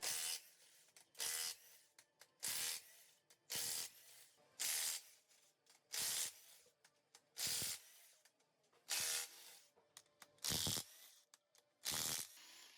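Ratchet wrench working loose the main bearing bolts on a 6.0 Powerstroke diesel engine during teardown, a towel wrapped around the bolt, giving about ten loud, evenly spaced bursts of rapid clicking with short quiet gaps between them.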